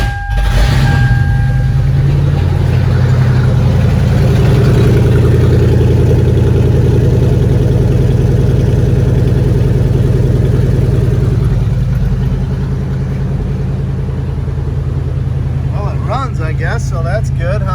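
A 4.7-litre V8 Toyota Sequoia engine with new headers turns over and catches, then settles into a loud, steady, rumbling idle that carries on throughout.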